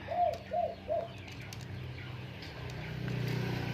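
A spotted dove gives three soft, low coos in quick succession, then quiet background hum fills the rest.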